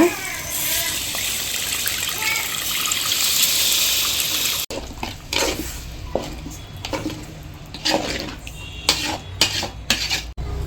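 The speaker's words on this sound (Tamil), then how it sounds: "குழம்புக்கு தேவையான அளவு கொஞ்சம் தண்ணி சேர்த்துக்கிறேன்ப்பா." Water pours and splashes steadily into a pot of tamarind fish curry for several seconds, then gives way to clinking metal utensils and scraping stirs close by.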